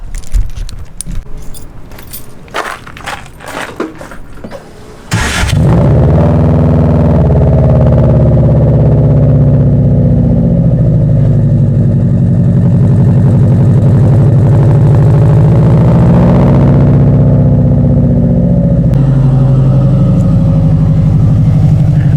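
A car engine cranks and catches after several seconds of jangling keys and clicks, then settles into a loud, steady idle to warm up, droning continuously with no talk.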